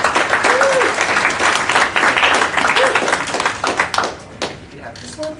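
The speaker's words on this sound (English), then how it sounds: "Give a round of applause." Audience applause at a JavaScript meetup, dense clapping from a crowd that swells and then thins out, with some voices mixed in.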